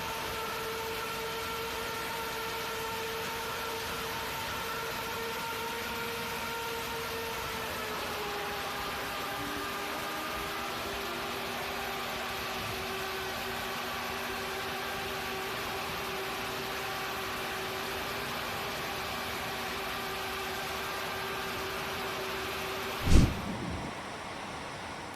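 Airbus A320neo jet engine running steadily as a loud, even roar with sustained tonal whine, the pitch dropping slightly partway through, ending in a sharp brief thump near the close.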